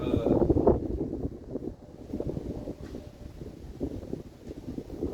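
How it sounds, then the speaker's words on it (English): Steady wind buffets and rumbles across the microphone outdoors, gusting louder at the start then settling into a continuous low roar. "It's windy out."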